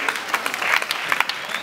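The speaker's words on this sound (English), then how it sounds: "Give him a round of applause" Applause from a crowd at the opening ceremony of a Little League baseball tournament, a brief burst of clapping with scattered sharper claps standing out.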